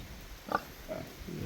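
Pigs on a farm give a few soft grunts and snorts, fairly faint and spaced out over low background noise.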